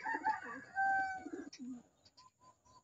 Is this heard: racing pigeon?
yes